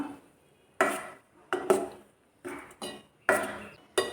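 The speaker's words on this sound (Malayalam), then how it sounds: "ഇനി ഇതിലേക്ക് നമ്മൾ അരച്ച് വെച്ച് നാളികേരം ചേർത്ത് കൊടുക്കും നന്നായിട്ടൊന്ന് ഇളക്കിയിട്ട് കൊടുക്കാം" Ground coconut being stirred into a pot of ripe mango curry, with a spoon or ladle knocking and scraping against the pot in about six distinct strokes, close and fairly loud, with no voices.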